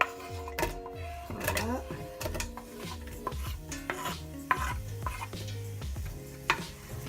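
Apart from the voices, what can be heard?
onions added to olive oil in a pan and stirred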